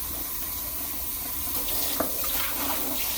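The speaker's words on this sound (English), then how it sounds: "I'll rinse it out" Tap water runs steadily into a sink while a reusable freezer bag is rinsed beneath it, a continuous close splashing rush with a brief sharper splash partway through and no talking.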